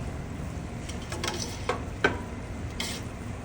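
Cooked Mexican rice stirred in a pot, with soft grainy shuffling and a few sharp spoon taps against the side over a low background hiss.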